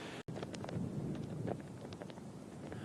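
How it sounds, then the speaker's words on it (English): Wind gusting across an exposed green at a Utah golf championship, a broad steady rushing buffet against the microphone, close and alone after a brief dropout at the start. "Wind picking up."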